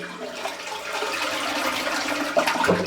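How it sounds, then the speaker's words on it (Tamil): A toilet flushes with a steady rush and swirl of water, close and continuous, with no talk. "ஃப்ளாஷிங்க"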